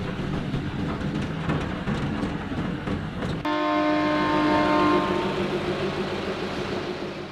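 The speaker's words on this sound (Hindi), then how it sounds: "स्टेशन पहुंच चुके हैं, और ये अपनी ट्रेन हिमालयन क्वीन और इस टॉय ट्रेन का अलग एक्सपीरियंस होने वाला है।" Railway sounds at Kalka station as the Himalayan Queen toy train stands by: a loud rumbling clatter gives way midway to a sharp, sustained ringing tone, likely a horn or bell, heard alone without talk.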